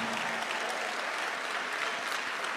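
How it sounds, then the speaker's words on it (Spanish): Congregation applauding the Lord Jesus Christ during a church sermon, a steady wash of fairly quiet clapping from a crowd that lasts the whole moment. "denle un aplauso al Señor Jesucristo"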